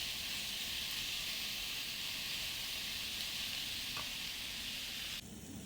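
Salted ingredients sautéing in a pan for egg biryani, giving a constant soft hiss of frying that runs evenly throughout and shifts slightly near the end.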